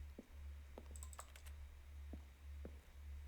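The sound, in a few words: keyboard-stroke button sounds in The Stanley Parable video game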